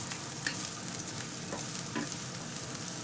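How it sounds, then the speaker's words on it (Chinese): Onion and garlic sizzle and crackle steadily in hot peanut oil as they are stir-fried vigorously, a close, even frying hiss with a few sharper pops and scrapes. "用力翻炒"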